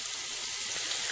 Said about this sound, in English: let your hot water run right on the seam where the boot meets the calf muscle